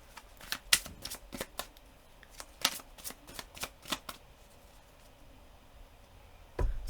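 Tarot cards being shuffled by hand up close, a run of quick, crisp riffling snaps and soft slides with short pauses, fairly quiet and free of speech.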